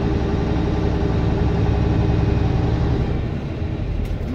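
A tractor trailer's diesel engine idles steadily in stopped traffic, a continuous low rumble with even vibration throughout, close and fairly loud with no talking.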